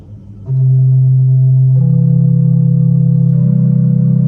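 Low, steady flute-like notes from a home pipe organ's gedackt 8-foot stop, soft and pure, held one after another with a slight step up in pitch; no voices.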